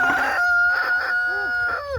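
A rooster crows loudly and close by, several drawn-out harmonic calls with brief pauses between them.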